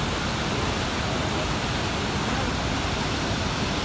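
The Saraswati river near Mana village rushes in a dense, even roar of water, loud and unbroken, like a nearby torrent, with a voice faintly under it.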